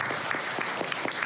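Audience applause at a teachers' training lecture, a brief burst of steady, dense clapping from a crowd, moderately distant and even in loudness.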